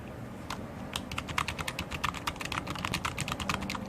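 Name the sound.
typing on a Gearhead mini keyboard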